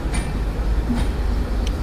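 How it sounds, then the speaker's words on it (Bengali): Low, steady rumble of the Drutojan Express intercity train pulling out of Parbatipur Junction station, with faint metallic squeals and clanks over a constant heavy drone. "পার্বতীপুর থেকে ঢাকা অভিমুখী আন্তনগর দ্রুতযান এক্সপ্রেস একদম সঠিক সময় পার্বতীপুর থেকে ছেড়ে যাচ্ছে"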